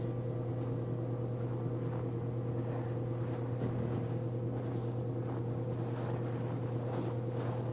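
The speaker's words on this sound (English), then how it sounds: "Windy. Storm coming." Wind in the video game Assassin's Creed Valhalla as a storm approaches, a steady, dense rushing roar that holds unbroken throughout with no speech.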